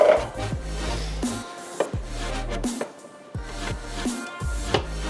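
Canned San Marzano tomatoes being stirred in a pot, with repeated wooden scrapes and knocks against the pot in an uneven rhythm, close and moderately loud, no talk.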